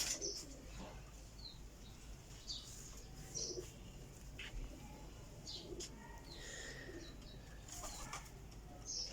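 Soft, faint cooing of spotted flying pigeons at a loft, mixed with brief chirps and a few wing flaps over a low steady background hum.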